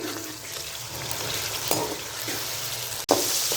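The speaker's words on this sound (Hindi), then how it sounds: "4 से 5 मिनट के लिए हम चिकन को अच्छे से फ्राई करेंगे मीडियम फ्लेम पे" Boneless chicken fries with whole spices and salt on a medium flame, giving a constant close sizzle with occasional stirring scrapes and one sharp click near the end; no voices.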